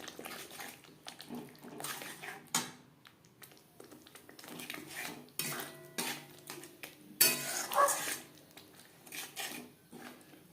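A metal spoon clinks and scrapes in a pan as chana masala with mutton fat is stirred over the flame, giving a faint, irregular series of taps and rattles with short pauses between strokes.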